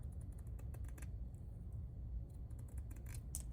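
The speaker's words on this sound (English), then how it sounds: "we're just going to cut off one long strip of this" Scissors snip through a long strip of eyelash trim for a junk journal, a quiet series of short crisp cuts in two bursts with a pause between.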